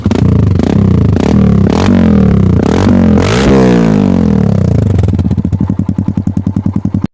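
Kawasaki KLX 140 dirt bike fitted with an FMF exhaust pipe revs hard and loud close by, engine pitch rising and falling through several throttle blips before settling into a rapid, pulsing idle.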